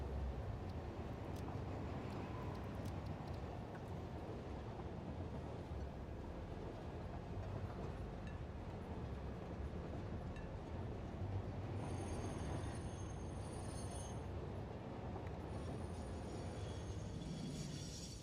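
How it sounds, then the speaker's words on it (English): A large train moves steadily in the factory-building video game Satisfactory. It gives a continuous rumbling roll with faint metallic squeals partway through, and no talk is heard. "we should be able to move around with our big train"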